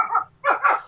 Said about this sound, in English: is that your dog? That's my dog.